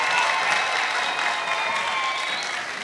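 An audience claps at a Kimbanguist music concert in Brazzaville, a dense, even wash of many hands at steady volume throughout, with no voices standing out.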